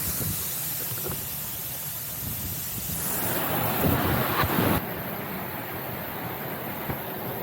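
Steady broadband rushing water from a waterfall in an outdoor spot, loud and continuous throughout with a windy, surf-like roar and no talking.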